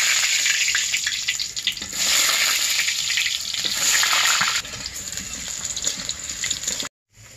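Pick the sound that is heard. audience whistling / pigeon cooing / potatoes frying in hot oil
potatoes frying in hot oil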